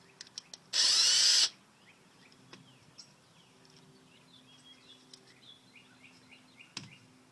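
A power drill fitted with a Phillips bit gives one short loud burst of under a second while backing out a screw on a Yamaha 4x4 servo assembly, followed by quiet clicks and handling noises.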